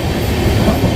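A moving passenger train from Bhuj rumbles and rattles in a steady, close, loud clatter of wheels on rails heard from onboard, with no break across the moment.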